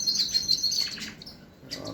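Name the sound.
canary singing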